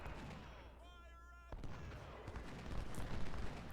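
Musket volleys from Civil War brigades at Shiloh in Ultimate General: Civil War crackle as dense, scattered gunfire, mixed with distant booms, behind a brief tonal sound.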